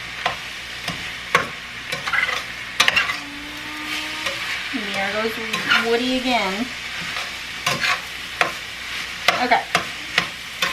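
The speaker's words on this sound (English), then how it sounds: "I just wanted that garlic to start cooking" Garlic sizzling in a pan for sloppy joes, a steady frying hiss with stirring clatter and utensil knocks, while a person speaks briefly over it and a squeaky toy-like whine rises mid-way.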